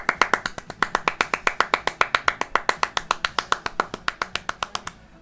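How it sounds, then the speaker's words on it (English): Rapid, evenly spaced hand claps in a round of applause, fairly loud and close, about thirty sharp claps over five seconds with no talking. "round of applause for Sib."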